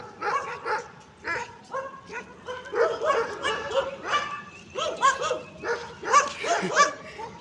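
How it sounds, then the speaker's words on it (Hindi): Street dogs bark and yip repeatedly in the daytime, near and fairly loud, in irregular bursts mixed with whimpers, with a rottweiler among them. "अभी भी भौंका जा रहे हैं भाई"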